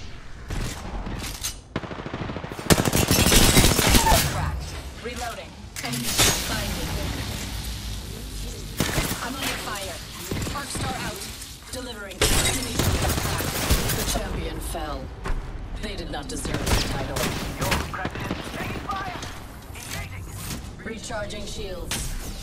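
Havoc energy rifle fire in the battle-royale game Apex Legends, dense bursts of automatic shots near and loud, with recurring volleys under in-game character voice lines and a player talking throughout.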